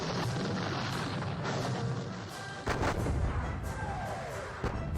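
Heavy artillery guns fire in a Napoleonic war strategy game, John Tiller Napoleonic Series, as a dense, continuous rumble of booming cannon shots with a couple of sharper reports standing out.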